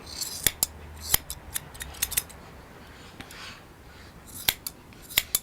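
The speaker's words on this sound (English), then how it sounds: "I put the scissors slightly down, follow the line" Scissors snip in quick irregular bursts while trimming a Bouvier des Flandres dog's coat along the back toward the tail during grooming, close and crisp, with quiet pauses between clusters of cuts.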